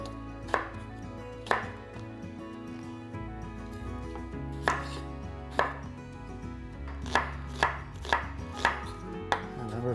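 A knife chops potatoes on a cutting board for a vegan potato salad, landing in irregular sharp knocks, single strikes and quick clusters, close and clear with no talking.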